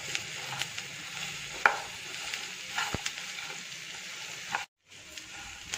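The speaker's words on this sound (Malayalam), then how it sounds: "ഇളക്കി യോജിപ്പിക്കാം." Beef fries in a pan for Bellary beef, giving a soft, continuous sizzle with scattered light clicks from stirring. It is quiet and close, with a brief gap near the end.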